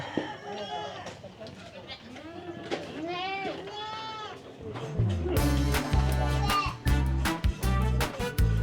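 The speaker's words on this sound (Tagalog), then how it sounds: "Daming kambing" Several goats bleat in wavering cries over a noisy crowd at a 60th birthday celebration, then loud music with a heavy beat kicks in halfway and drowns the animals out.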